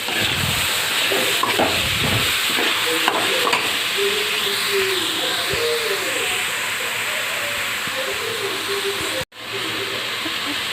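Capsicum sautéing in a pan for homemade egg fried rice gives off a steady, loud hiss and sizzle, with stirring scrapes early on and a brief break near the end.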